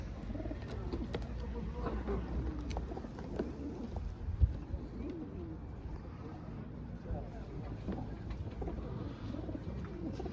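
Low, soft pigeon coos repeat amid a busy murmur of voices and background bustle at a pigeon show in Ivano-Frankivsk, with a sharp knock partway through.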